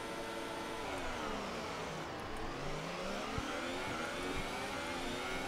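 F1 race cars launching off the grid at a French Grand Prix in F1 2018, many high-pitched engines screaming together and climbing through gears, a dense layered roar of rising and falling revs with no talk.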